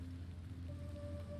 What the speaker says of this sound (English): I think it might be just they're using stock sound for the rain.